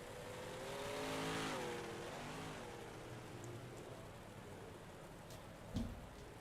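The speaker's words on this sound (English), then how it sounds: "Got cars on the pit road here." Big block modified race cars rumble along pit road at Eldora Speedway, a steady engine drone swelling then settling, heard from a distance with a brief thump near the end.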